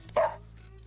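A single short dog bark or yip from a movie scene where a dog is being taught to talk, one close burst over quiet background hum.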